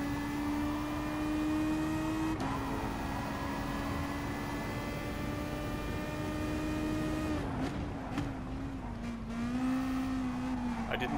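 Toyota FT-1 VGT race car lapping Circuit de Spa-Francorchamps in Gran Turismo Sport, its engine holding a steady high drone with a brief shift dip, then rising and falling pitch sweeps near the end over constant tire and road noise.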